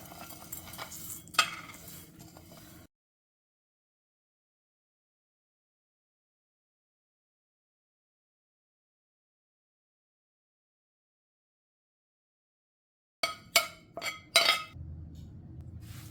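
Pan masala ingredients, with dates set aside, are mixed in a bowl: quiet clinks and scraping stirs of a spoon against the bowl, then a long silent gap before another burst of sharp clinking and stirring.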